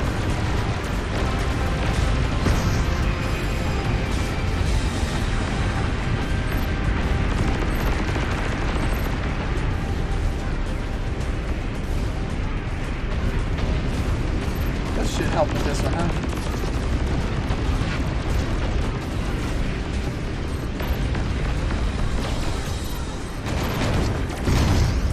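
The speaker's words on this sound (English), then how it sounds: "All these explosions are throwing my bot off." Explosions and gunfire in the robot-building combat game Robocraft: a dense, continuous wash of blasts, rumbling booms and mechanical clatter, loud and sustained with a few sharper bursts, and a voice occasionally talking underneath.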